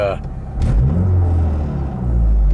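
A car engine revs after a new passenger-side motor mount is installed, a loud low rumble swelling and holding steady with extra vibration, close by, with someone speaking briefly over it.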